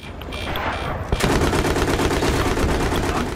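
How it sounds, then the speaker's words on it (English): Heavy tank cannon and machine-gun fire in the PS3 shooter Battlefield 3, a dense, loud continuous burst with a sharp blast about a second in, almost no talk over it. "I'm gonna turn this tank around and start shooting."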